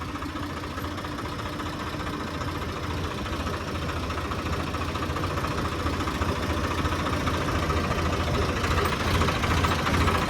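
A tractor engine idles steadily in a continuous, even low rumble with slight vibration, close and unchanging throughout with no talk.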